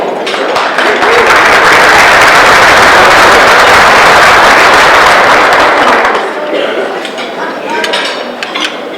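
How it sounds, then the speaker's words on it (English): Loud, dense audience applause fills a room at a breakfast event, a sustained roar of many hands that cuts off sharply, leaving scattered claps and table clatter behind. "Stop applause."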